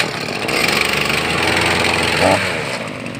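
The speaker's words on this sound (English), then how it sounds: "Throttles, chokes on, start it." A two-stroke weed wacker engine, already warmed up, runs with a steady, loud buzzing drone throughout, with a brief surge in revving partway through.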